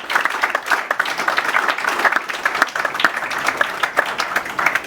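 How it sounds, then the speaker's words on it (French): A hall full of party supporters applauds at an installation ceremony for a new UDPS bureau, loud, dense and continuous clapping with a faint crowd murmur underneath. "Est-ce qu'on peut applaudir plus que ça?"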